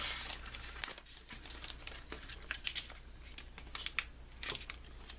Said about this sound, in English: So I do this by just slowly peeling it off.